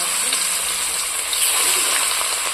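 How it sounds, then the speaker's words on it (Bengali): Fish sizzles steadily in hot oil in a home kitchen, a dense continuous crackling and hissing, close and loud, with no pauses. "তাহলে চলো মাছ ভাজা যাক"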